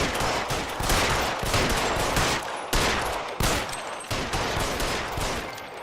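Rapid, loud gunfire from the video game L.A. Noire as a player shoots at letters, with dense bursts of shots repeating across the whole stretch and no talking.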